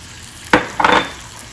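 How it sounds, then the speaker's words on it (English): Finely chopped garlic, celery and other vegetables sauteing in a pot for three-meat jambalaya give two short bursts of sizzling and stirring over a quiet background. "All of these ingredients will saute."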